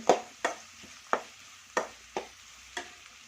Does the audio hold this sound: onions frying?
yes